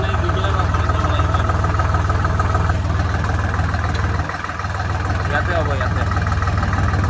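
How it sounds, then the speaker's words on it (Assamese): An Ace tractor engine idles with a steady low chugging throb, close and loud throughout, dipping briefly midway, while someone talks over it. "এইটো ট্ৰেক্টৰ"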